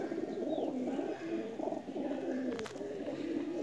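Young blue-tailed pigeon chick at a Pakistani home loft, cooing in a soft, continuous run of low warbling coos that rise and fall for the whole stretch, close by and without any voices.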